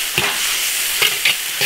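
Eggplant stir-fried with minced pork, garlic and chili sauce sizzles steadily in an iron wok, a dense frying hiss broken by a few sharp scraping stirs of the spatula.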